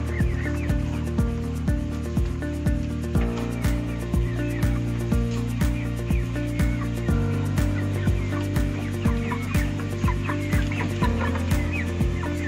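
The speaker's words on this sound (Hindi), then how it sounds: "अब यहाँ मुर्गी को खाना दिया जा रहा है।" Chickens clucking while being fed, with dense, overlapping bird calls and short scratchy sounds against a steady low-pitched background, and no speech.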